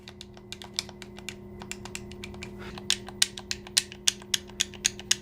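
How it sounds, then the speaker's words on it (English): Rapid, crisp clicking of a mobile gaming controller's small buttons pressed in quick succession, light and close, growing slightly sharper toward the end over a steady low hum. "The buttons also feel good and not too loud when pressing them here."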